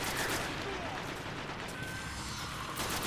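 Gunfire in the video game Destiny, with continuous rapid shots crackling over a dense, loud layer of game noise and effects throughout.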